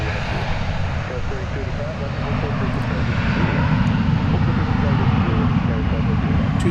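American Airlines Airbus A321 airliner at DFW Airport, a steady loud jet engine roar with broad rumbling noise that swells slightly midway, while a person talks over it.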